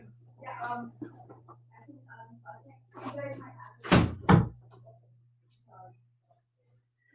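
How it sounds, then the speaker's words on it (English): Indoors at home, a door is pushed closed with two quick close thumps, right after a stretch of someone talking over a steady low hum. "So let me close my door real quick."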